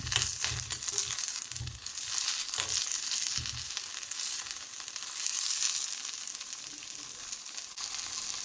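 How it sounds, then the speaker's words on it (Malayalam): Whole Kashmiri chillies sauté in a pan for a Kerala-style sardine chilli curry, giving a steady close sizzle with crackling and soft stirring scrapes and no talk. "കാശ്മീരി മുളകാണ് അതുകൂടി ഇട്ട് കൊടുത്തൊന്ന് നമുക്ക് വഴറ്റി കൊടുക്കാം"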